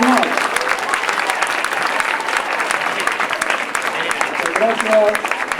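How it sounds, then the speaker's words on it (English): Sustained audience applause after a presentation at a live event, a dense crowd of hands clapping steadily with some voices rising through it near the end. "Let's give him a round of applause for this presentation."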